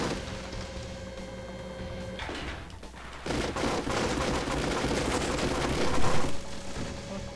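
Gun turret machine gun fire in a Mission Impossible video game: after a quiet hum and a brief pause, a dense, continuous rattling barrage of rapid shots starts up and stays loud and sustained to the end.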